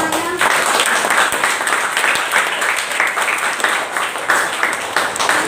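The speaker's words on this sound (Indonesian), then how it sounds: "Beri tepuk tangan semuanya" Class 7D students in a school classroom give sustained, lively applause that is loud and near. The clapping keeps up steadily throughout, with a few voices faintly mixed in.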